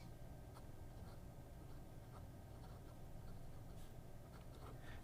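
A fountain pen nib writes in reverse across paper, giving a faint, steady scratchy rasp with small ticking strokes, close and quiet against a low background hum.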